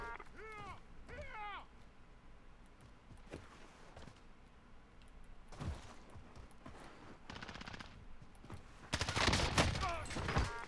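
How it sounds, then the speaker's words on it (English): Bursts of automatic gunfire in the video game Call of Duty Warzone, rapid rattling volleys scattered through the clip and loudest near the end, mixed with game effects and faint background voices. "Yeah, I'm getting shot."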